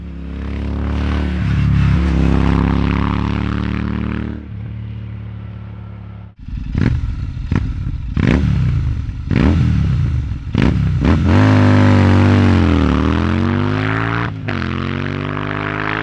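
A loud, close Royal Enfield Interceptor 650 twin-cylinder motorcycle engine rumbles at idle, then revs up and down repeatedly with throaty exhaust bursts and rising, falling pitch.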